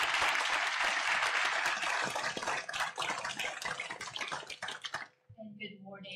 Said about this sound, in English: Please, another round of applause for Joseph.